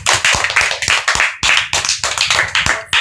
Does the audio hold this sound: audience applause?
yes